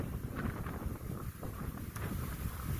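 Strong, gusty wind buffets the microphone outdoors in a beeyard of overwintered hive rows, a steady broadband roar rising and falling, with no talk.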